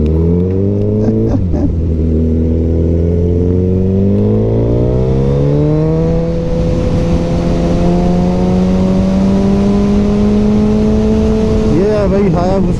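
A Suzuki Hayabusa motorcycle engine holds a loud, steady drone, rising slowly in pitch as it revs through the gears, close and continuous, with voices faintly underneath.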